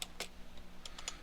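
Keys clacking on a computer keyboard while a mount command is entered during an Arch Linux install, a few quick separate keystrokes at close range with short pauses between them.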